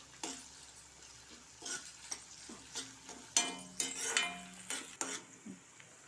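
Tomato pieces and green chillies fry in a pan for a vegetable biryani, a low sizzle broken by a spoon clinking and scraping against the metal as they are stirred.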